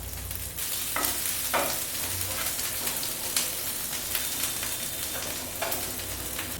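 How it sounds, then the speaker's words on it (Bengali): Mixed vegetables with bitter gourd frying in hot oil, a steady close sizzle with bursts of crackle and spatter and occasional stirring scrapes, no voices. "তেলটা গরম হয়ে গেছে। এবারে আমি পেঁয়াজ আর কাঁচা লঙ্কা ছাড়া বাকি সমস্ত সবজি দিয়ে দেব। প্রথমেই দিয়ে দিলাম করলা"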